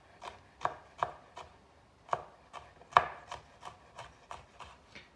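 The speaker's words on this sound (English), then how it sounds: "I'll just use the knife to just cut down into these fine little pieces of chili" Knife chopping chili finely on a board: a dozen or so crisp, close taps at a loose uneven rhythm, one heavier stroke midway, with soft scraping between cuts and no talking.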